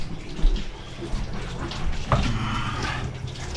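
Water rushing steadily into a food trailer's water tank, a continuous splashing flow with a brief knock or clunk partway through, close up and without speech.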